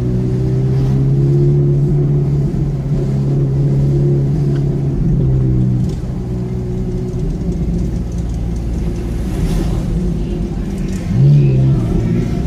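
Ferrari engine running steadily at low road speed, about 30 per hour, a continuous near rumble with a deep drone and a brief rise in revs near the end, no talk over it.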